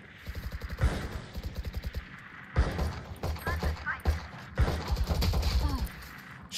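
Rapid bursts of gunfire from the Valorant video game crack in quick repeated strings, broken by short pauses and mechanical clicks, loud and close, with a voice speaking in between.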